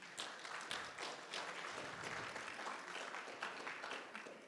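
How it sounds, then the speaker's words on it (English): Applause from a graduation audience at a guide dog school ceremony, honoring the puppy raisers: steady, dense clapping from many hands fills the whole stretch at an even level, with no voices over it. "Give them a round of applause."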